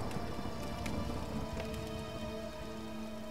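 Steady, dense rainfall in the video game Tomb Raider forms a continuous hiss of drops on surfaces, with a low hum and occasional soft crackles beneath, and no talking.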